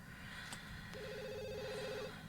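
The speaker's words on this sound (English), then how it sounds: "the phone is ringing" A house telephone ringing in The Sims 2, a short electronic ring tone heard faintly beneath steady game background sound.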